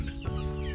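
Free-range backyard chickens clucking close by in a brief burst, several low overlapping calls over a steady outdoor background, with no talking.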